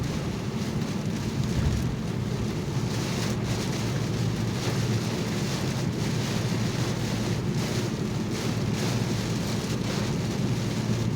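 Steady loud rain pours during a thunderstorm, a continuous broadband wash with faint low rumble and a few brief louder bursts, no voices, heard while driving home from work.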